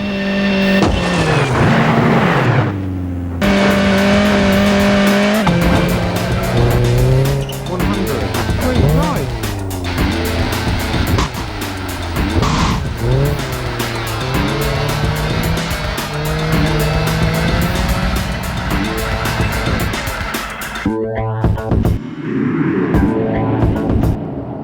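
A rally car in V-Rally 3 revs hard with rising and falling engine tones and gear changes, tires scrabbling, then goes briefly airborne before the engine picks up again, loud and close throughout.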